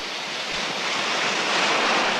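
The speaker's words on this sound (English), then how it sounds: "or surfing in on waves to the beach" Ocean waves surge and break toward a beach in a steady, loud rushing wash of surf with no pauses and no voices.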